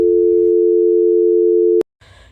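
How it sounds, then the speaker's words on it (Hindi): A steady electronic telephone tone holds for nearly two seconds, then cuts off with a click, followed by faint rustling. "रमेश फोन निकालकर अपनी मम्मी को फोन करता है"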